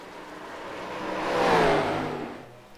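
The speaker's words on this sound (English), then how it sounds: "And I don't even have the car noises on, do I?" Race car engine in a racing video game, a single whirring pass that swells to a loud peak at mid-clip and fades away, with no talk.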